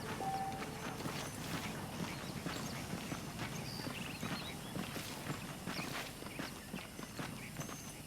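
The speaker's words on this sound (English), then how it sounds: "The horses are saddled up over here." Saddled horses walk along in the Western game Red Dead Redemption, their hooves clip-clopping in a steady, continuous patter at moderate distance over faint ambient noise.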